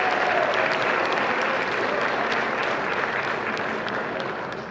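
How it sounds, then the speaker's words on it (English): A large audience at a football awards ceremony claps steadily in warm, dense applause that holds strong and tapers slightly at the end. "How about another round of applause for all of our amazing honorees?"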